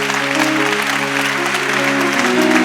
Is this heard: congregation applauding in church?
yes